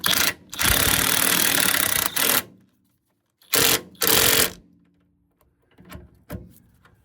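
A pneumatic impact wrench rattles in short bursts as it tightens the rear shock bolts on a 2007 Ford Focus: two longer runs, then two more, then a couple of brief taps, loud and close.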